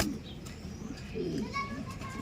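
Pet pigeons or doves give soft low cooing calls in a loose, repeated rhythm close by, with children's voices and light chatter in the background.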